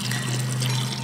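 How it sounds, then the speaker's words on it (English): Warm milk mixed with molasses is poured from a pint jar into a compost slurry bucket, giving a steady, close liquid pour with a low hum underneath, and no talking. "I'm going to be pouring half in one bucket"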